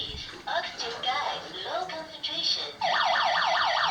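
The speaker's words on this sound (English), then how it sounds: "Well, we had a low oxygen alarm." A low oxygen alarm inside a granite mine sounds as a loud, rapidly warbling electronic tone that takes over near the end, following talk and scattered noises.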